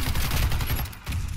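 Rapid automatic fire from an MSBS Radon rifle in the shooter game Warface, heavy low-end bursts cracking out in quick succession with a brief dip before the firing resumes.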